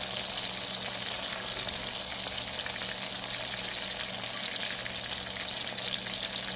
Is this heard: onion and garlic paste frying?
yes